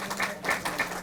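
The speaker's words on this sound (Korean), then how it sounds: "박수 한번 보내주시오" A room at a district office work report meeting in Pohang breaks into steady applause, a dense patter of many hands clapping throughout the short moment.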